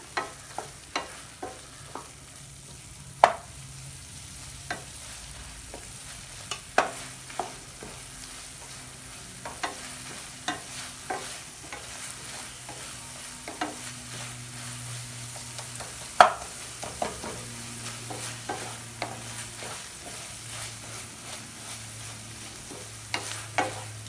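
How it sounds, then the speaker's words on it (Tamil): A ladle stirs onion and tomato masala in a pan while making tomato rice, giving repeated scraping knocks and light taps over a soft, steady sizzle throughout, with no talking. "இப்போ ரெண்டையும் சேர்த்து நல்லா மிக்ஸ் பண்ணிடலாம்"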